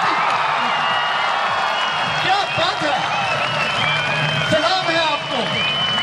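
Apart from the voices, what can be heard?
audience applause at police commando performance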